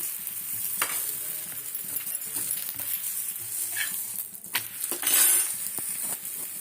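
Chapati frying in a pan with a little oil, a soft sizzle under scattered clinks and stirring scrapes, close and fairly quiet, no talk.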